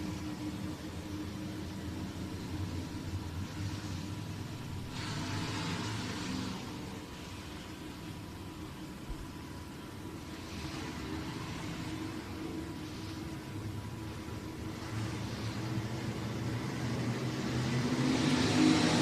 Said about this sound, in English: Here we go. Green flag racing.